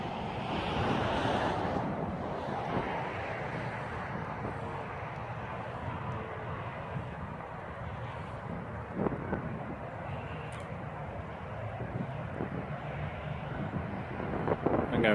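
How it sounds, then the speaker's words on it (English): Light wind blows steadily outdoors on a cold day, a soft continuous rush with microphone buffeting and a few faint knocks, and no talking. "It's a little small wind."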